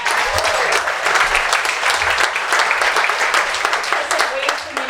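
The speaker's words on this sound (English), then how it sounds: "round of applause for Dave." Audience applause at an outdoor sunset concert at Summit House, dense steady clapping filling the whole moment, loud and close.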